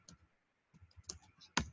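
Quiet typing on a computer keyboard in a terminal window, a short run of soft irregular key clicks with a pause and a sharper final keystroke.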